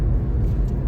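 A car cruising in fourth gear on a highway between Villupuram and Tindivanam hums with steady low engine and road rumble, close and continuous without talk.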